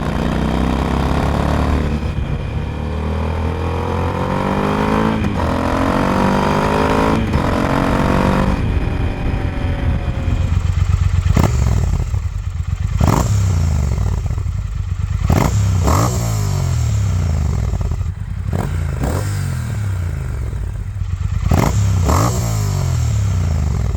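A Triumph Speed Twin 1200 fitted with Akrapovic slip-on exhausts and a Motone X-pipe roars loudly and continuously while riding. Its exhaust note rises and falls through repeated throttle pulls and gear changes, with no talking.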